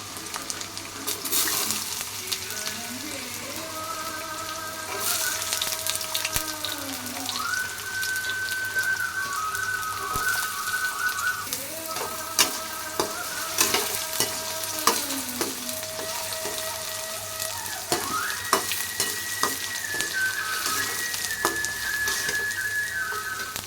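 Ginger fries in a pan while making mint chutney, giving a steady soft sizzle with scattered stirring clicks, as long gliding whistle-like tones rise and fall over it, with no speech.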